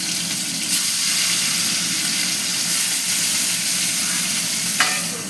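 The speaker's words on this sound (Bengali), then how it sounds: "দেখো তেল গরম হয়ে গেছে, ওতে আমি এই যে মাছের মাথাগুলো দিয়ে দিচ্ছি।" Boal fish heads crackle and sizzle in hot oil in a pan, a steady, dense frying hiss that holds throughout with a small spatter flare near the end.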